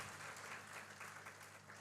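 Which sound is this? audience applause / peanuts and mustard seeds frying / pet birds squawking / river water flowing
audience applause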